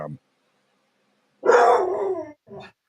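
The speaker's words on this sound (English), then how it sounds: "Yes, dog." A single dog barks once, close and clear, in a quiet room. Brief speech sounds come before and after the bark.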